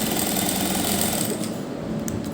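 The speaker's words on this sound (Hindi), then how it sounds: "यहाँ हम किनारे किनारे पर सिलाई लगा देंगे।" Sewing machine running steadily as it stitches along the edges of fabric piping for a cuff sleeve, a continuous loud mechanical whirr with no pauses.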